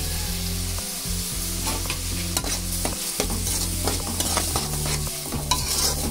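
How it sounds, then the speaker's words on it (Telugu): Cumin seeds and onions frying in hot oil in a pan and stirred with a spoon, giving a steady close sizzle with repeated scraping strokes and no talk. "జీలకర్ర, ఉల్లిపాయలు తిప్పుకోవాలి"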